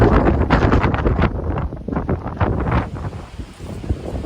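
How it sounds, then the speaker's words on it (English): Strong gusting wind on a sheer cliff ledge along the Appalachian Trail in Shenandoah National Park, buffeting the microphone with loud, rough rushing bursts that rise and fall continuously without talk. "the wind is just really keeps you from enjoying it too much"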